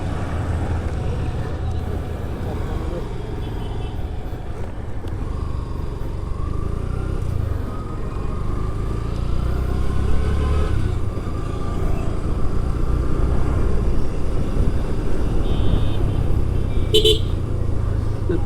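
Dense motorcycle traffic on a busy road in the afternoon, a steady engine rumble and road noise that swells in the second half, with a short horn toot near the end.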